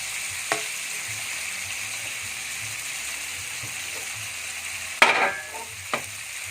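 Steady sizzle of chicken breast stir-frying with oyster sauce in a pan, with occasional scrapes and clatters of a utensil stirring, one sharper clang near the end.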